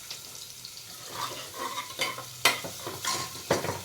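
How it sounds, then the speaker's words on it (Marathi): Onion and tomato fry in a pan for pav bhaji while a spatula stirs them, making rhythmic scraping strokes over a close, crackling sizzle. "परत हलवून घ्यायचं"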